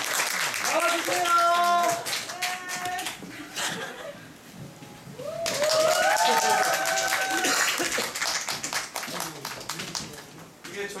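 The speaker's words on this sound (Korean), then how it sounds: "박수 부탁드리겠습니다." At a post-performance audience talk for a stage play, the crowd claps in two long stretches of brisk applause, with a host speaking and people chuckling over and between the clapping.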